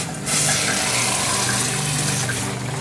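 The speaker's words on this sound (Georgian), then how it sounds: "გადავიტანოთ ცივ წყალში." Blanched tomatoes moved into cold water while making salmorejo tomato soup: loud, steady rushing of running water for nearly three seconds, with no talking.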